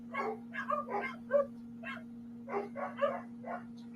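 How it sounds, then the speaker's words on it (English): Dogs bark in short bursts and clusters, some sharp yaps among them, sounding somewhat distant over a steady low electrical hum. "I think it's just those dogs."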